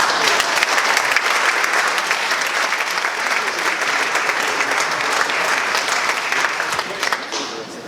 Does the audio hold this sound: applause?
yes